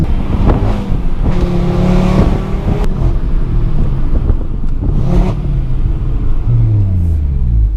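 A 2018 Audi RS3 hatchback tuned to 510 BHP roars close and loud through a launch, its engine rumbling and revving hard in a steady, heavy drone with a rising pitch near the end.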